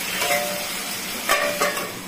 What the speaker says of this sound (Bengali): কচু আলুটা বেশ ভাজা ভাজা হয়ে যাচ্ছে, মশলা কষানো।